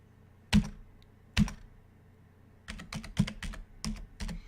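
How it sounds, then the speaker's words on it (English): Keys clack on a computer keyboard: two isolated taps, then a quick burst of several keystrokes, close and fairly quiet with no talking. "Right here, you type in Fertile Crescent."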